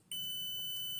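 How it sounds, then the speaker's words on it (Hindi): A multimeter in continuity mode beeps while testing an IRFZ44N MOSFET, a single steady high-pitched tone that starts abruptly and holds unbroken for about a second. "देखो बीप दे रहा है ना"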